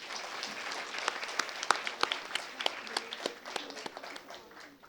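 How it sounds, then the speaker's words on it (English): An audience at a panel session on India's role in the global order claps for the panelists, a moderate crowd applause with distinct sharp individual claps popping out, swelling briefly then thinning toward the end. "May I also request all of you to kindly give an applause to my fellow panelists."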